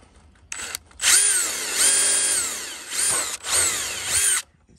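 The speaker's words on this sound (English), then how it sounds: "we'll grab a very small drill bit and we'll just drill another hole" A small drill bit bores a hole through the plastic base of a GoPro mount, the power drill whining loudly in several sustained bursts that rise and fall in pitch, close by and separated by brief pauses.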